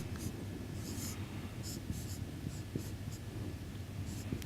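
Pen or marker strokes writing out an equation by hand during a lecture on the Hamilton-Jacobi-Bellman equation, a steady series of faint scratchy strokes and taps with no voice.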